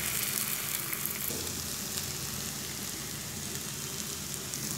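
Eggs sizzle in a pan with a spiced kasuri methi mix for dhaba-style tarka, a steady, dense crackle of frying heard up close without any talk.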